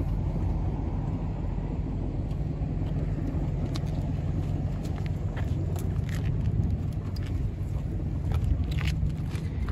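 A Lexus GS300 engine idles after overheating, giving a steady close rumble with faint clicks and ticks over it and no one speaking.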